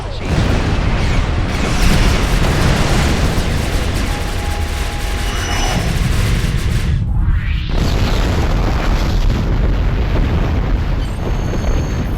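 Explosion as a starship comes under attack in a science-fiction audio drama: a loud, sustained roaring blast filling the scene, then a sweeping whoosh and a high electronic tone as the rumble carries on.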